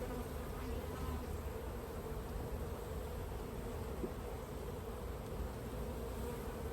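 Dense, steady buzzing of many honeybees around an opened beehive during a frame inspection, a continuous close swarm drone with no talk.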